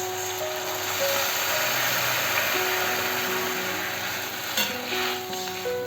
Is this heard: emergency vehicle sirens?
no